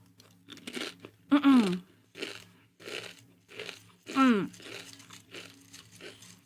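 A crunchy snack is bitten and chewed close to the mic in two loud crunching bursts, with soft talking in between.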